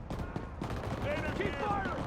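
Gunfire in a video game firefight, a steady stream of shots under ongoing voices and combat noise, fairly loud and dense throughout.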